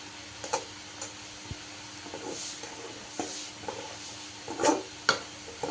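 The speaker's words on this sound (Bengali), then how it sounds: "আটাটা দিয়ে সুন্দরভাবে নেড়ে চেড়ে নিতে হবে।" Flour dough for puli pitha being stirred in a pan, with soft, irregular scrapes and taps of the spoon and a faint low hiss, quiet and close.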